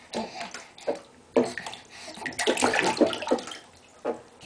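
Bath water sloshing and splashing in irregular bursts as a baby kicks in the tub, close by, with quieter gaps between the splashes.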